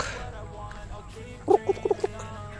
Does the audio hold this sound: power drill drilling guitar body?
no